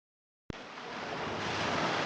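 Pacific Ocean surf off the North American coast, a broad steady wash of waves that starts abruptly and swells slightly louder, heard alone without talk.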